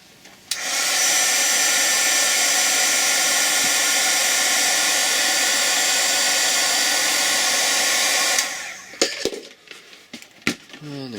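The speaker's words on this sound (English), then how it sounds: "I'm going to hit that with heat again." A heat gun roars steadily for about eight seconds while shrinking tubing on a wiring harness, then cuts off, followed by light handling clatter and clicks nearby.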